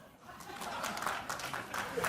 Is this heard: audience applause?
yes